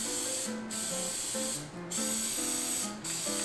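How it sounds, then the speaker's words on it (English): Cooking spray hisses onto a muffin pan in three short bursts, faint under steady background music. "I'm gonna spray the muffin pan because you don't want these babies sticking."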